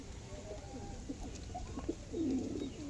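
Pigeons of a high-flying breed give low, soft coos while being handled, close and faint, with a slightly louder burst of cooing near the end over a steady background hum.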